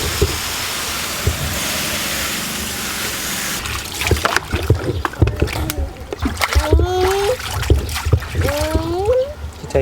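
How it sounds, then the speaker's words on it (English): A baby splashes water in a bath, with broadband splashing and sloshing at first, then faster splashes mixed with the baby's squealing vocal sounds close by. "You taking a bath?"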